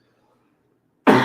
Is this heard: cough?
yes